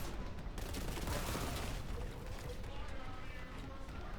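Rapid bursts of gunfire and explosions in the first-person shooter Warhammer 40,000: Boltgun, dense and continuous under a noisy mix, with voices speaking over the din.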